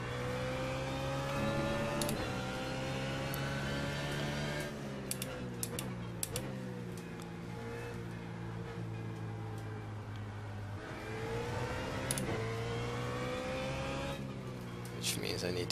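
A GT3 race car engine drones steadily at Spa-Francorchamps in a Blancpain Sprint Series racing video game, rising and falling with gear shifts under continuous commentary, with occasional keyboard-like clicks.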